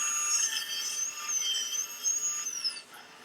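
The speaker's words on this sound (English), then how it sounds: "I'm cutting this out of figured black wood." A saw cuts through an offcut of figured blackwood in a workshop, a high whine that holds steady under the cut and then winds down at the end, with no talking.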